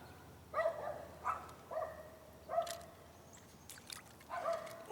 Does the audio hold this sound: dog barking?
yes